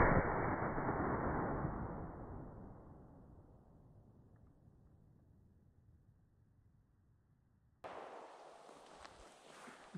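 A 38-55 rifle firing a 255 grain lead bullet at about 1600 fps outdoors, one loud shot at the start whose boom decays slowly over several seconds, followed by a fainter sharper noise near the end.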